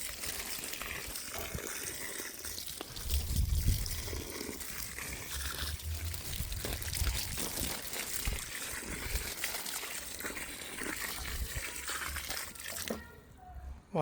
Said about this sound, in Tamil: இனி அவருக்கு தண்ணி விடுவோம்